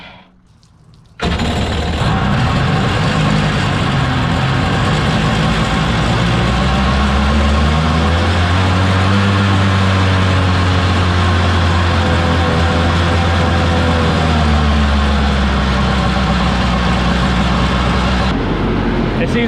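A Kawasaki 1100 engine in a mini jet boat restarts abruptly and runs at a loud, steady idle close by, droning continuously before cutting off near the end.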